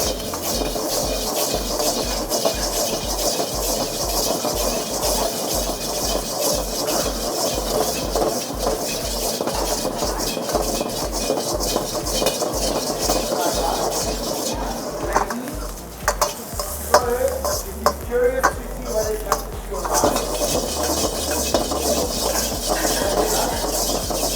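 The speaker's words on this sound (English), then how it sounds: "Now we need to wait for this to saute a little bit." Thai tofu, prawns, sweet radish and onion sauté for pad thai in a pan, with a busy steady sizzle and repeated utensil scraping and clinking throughout, plus a low mechanical hum in the background.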